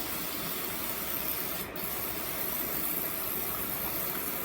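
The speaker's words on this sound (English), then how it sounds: "we're just going to spray lightly with the" A continuous hissing spray of olive oil onto baking sheets runs for several seconds, close by, with a brief break in the middle before resuming.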